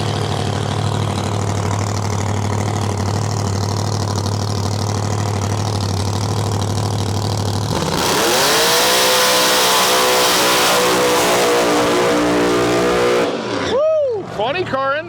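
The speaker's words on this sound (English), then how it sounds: "Funny car in the house here, a big burnout." A drag-racing funny car idles with a steady deep rumble, then roars into a loud burnout as engine revs climb and hold, ending with rising and falling rev swoops at an outdoor strip; a voice talks over it.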